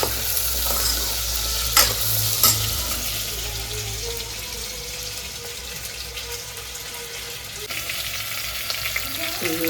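Chickpeas and potatoes stirred in hot oil in a home kitchen, giving a steady close sizzle with spoon scrapes and a couple of sharp clinks early on.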